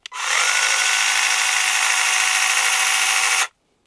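A Dnipro-M CS 12 battery mini chainsaw whirs steadily and close up for a few seconds, a smooth high motor hum that starts and stops abruptly.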